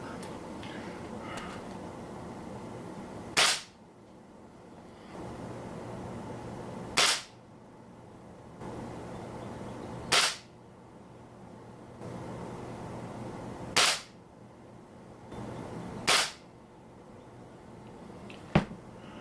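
A Beeman dual-caliber gas ram pellet rifle in .22 firing H&N Barracuda Hunter Extreme 19.09 grain pellets, six sharp, close cracks spaced a few seconds apart over a low background hum.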